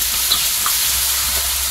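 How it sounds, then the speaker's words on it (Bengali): Green peas fry lightly in a pan, a loud, constant hiss of sizzling oil heard close up with a couple of small pops and no speech over it. "মটরশুঁটিটা হালকা ভেজে নিয়ে টমেটো আর কাঁচা লঙ্কা দেবো"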